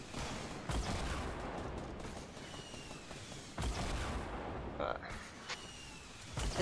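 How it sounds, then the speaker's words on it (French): Distant gunfire pops in scattered shots and short bursts during a Fortnite solo match, fairly faint beneath players talking. "Ah, ça tire là-bas, ouais."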